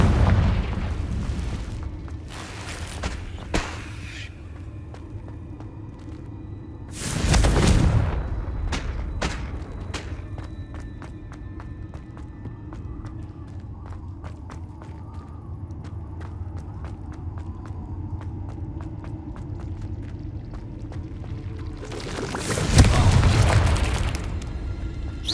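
Confringo spell explosions in Hogwarts Legacy: several loud booming blasts spaced through the stretch, with sharp pops and crackles between them over a steady low game rumble.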